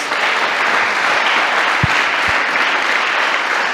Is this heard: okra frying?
no